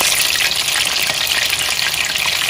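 Cheeseburger spring rolls fry in hot oil, giving a loud, steady, close crackling sizzle that continues without pause and without any voices.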